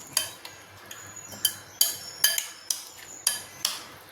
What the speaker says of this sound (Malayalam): മിക്സ് ചെയ്ത് കൊടുക്കാം ഉപ്പ് ഒന്ന് നോക്കിക്കോണം